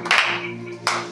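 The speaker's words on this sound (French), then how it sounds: "Acclame Jésus" A church congregation applauds during a sermon, giving a short burst of dense, close clapping that swells, thins out, then rises again briefly over a steady hum.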